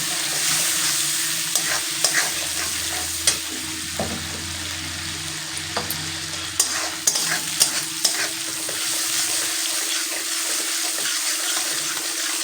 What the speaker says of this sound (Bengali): তো সেই জন্য আমি আগে এটাকে বেশ সুন্দর করে একটু হলুদ দিলাম, দিয়ে একটু ভেজে নেবো এটাকে।